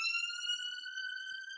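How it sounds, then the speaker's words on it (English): A passing vehicle siren sounds as one steady, clear, high electronic tone, faint and distant, with nothing else heard during its short span. "Sorry for the siren going by."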